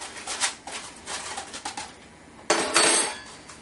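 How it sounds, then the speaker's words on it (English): A fork stirs onion soup seasoning mix in a bowl, scraping and clinking softly in irregular strokes, then a louder, harsher scrape near the end, with no talking. "I usually take a fork and just stir around, making sure that I get all of the ingredients stirred up a little bit"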